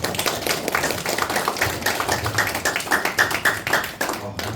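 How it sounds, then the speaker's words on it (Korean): Audience clapping at a lecture on emotional regulation, a dense run of overlapping claps lasting several seconds at steady loudness before cutting off near the end. "공감이 되시면 박수 한번 해주세요"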